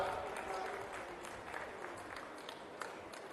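Students applaud at a Telangana government sports event attended by Chief Minister Revanth Reddy, producing a steady, dense wash of crowd clapping that sounds faint and distant and continues without a break.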